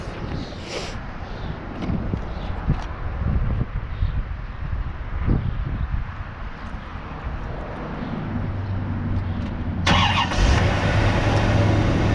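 A 1995 Chevrolet Corvette with 35k original miles cranks and fires up, a rough mechanical churn giving way to a steady idle that picks up a brighter, louder engine note near the end, close and clear.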